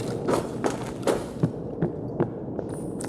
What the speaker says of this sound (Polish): Ktoś tu chodzi na lewo.